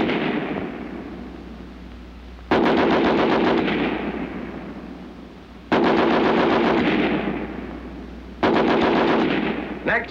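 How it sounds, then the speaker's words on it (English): An American Light 30 machine gun fires a 30-round test from its bipod in three loud, sustained bursts of rapid automatic fire, each cutting in abruptly and ringing out before the next. "In this test, each weapon will fire 30 rounds. First, the American Light 30 on the bipod."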